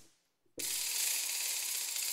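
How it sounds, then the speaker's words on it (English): A ratchet sample from the CinePerc PRO percussion library breaks in suddenly after a brief quiet moment, giving a loud, rapid, continuous clicking rattle that holds steady to the end. "Ratchet."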